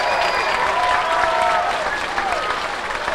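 Applause for Eileen Mills, a former principal, at the dedication of Hurld Wyman Elementary School: a crowd claps steadily and fairly loudly for the full stretch, with faint voices mixed in.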